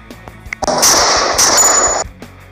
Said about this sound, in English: in adding bullet falling sound effects, I just have to make sure that it is placed after the gun sound effects played